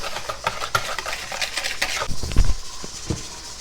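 Cake liquids for an upside-down pear cake being whisked with a regular whisk in a bowl, quick rhythmic clinking and scraping strokes close by, with a louder clatter partway through.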